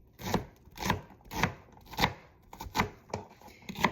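A knife dices an onion into small pieces on a cutting board, giving about eight sharp, evenly spaced chops that are close and clear, with no talking.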